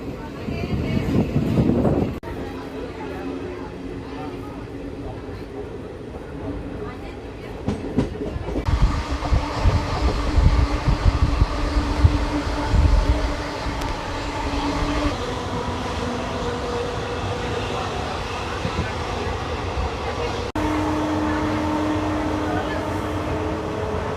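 Passenger train on the Raipur–Visakhapatnam line running steadily, with a loud continuous rumble and rhythmic wheel clatter heard from inside a carriage, while someone talks over it.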